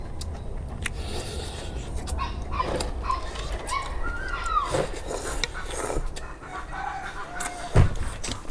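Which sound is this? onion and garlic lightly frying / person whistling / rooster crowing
rooster crowing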